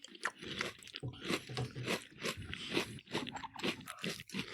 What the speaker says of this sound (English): they stay crunchy even in milk